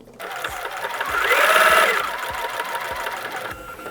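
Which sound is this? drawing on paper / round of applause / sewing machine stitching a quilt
sewing machine stitching a quilt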